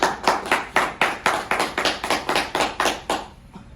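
A meeting audience in Jharkhand claps in a strong, regular rhythm for the institution's CMD, with about a dozen evenly spaced, synchronized claps ringing out before the clapping trails off.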